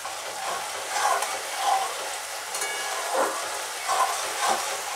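Onion and tomato paste sizzles in a hot pan for a spinach and mushroom curry, a steady close hiss rising in several brief surges as the mixture is stirred.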